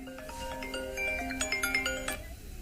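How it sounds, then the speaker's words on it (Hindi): A phone ringtone plays during an interview, a sequence of melodic electronic tones climbing in quick notes and ending abruptly, heard clearly over a quiet room. "सॉरी फोन आ गया था"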